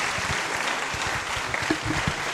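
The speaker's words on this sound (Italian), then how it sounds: "Please let's welcome him with a round of applause." An audience at an official visit to Don Bosco Training Institute breaks into steady, dense applause that fills the room and continues at an even level throughout.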